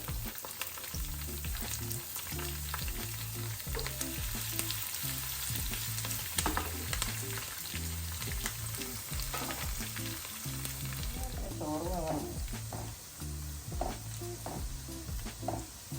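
Onions fry in a pan for kadala rice upma, giving a continuous close sizzle with faint crackles and no voices.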